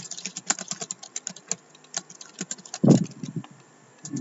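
Rapid typing on a computer keyboard, a near, crisp patter of individual key clicks in irregular bursts with one heavier thump near the end, no voices.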